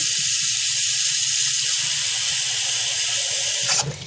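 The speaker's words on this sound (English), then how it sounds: "I'll coat the bottom of this just to get it all evened out, and then I will put some water in there." Cold water is poured steadily into a container coated with baking soda, making a continuous hissing splash for several seconds before it stops abruptly near the end.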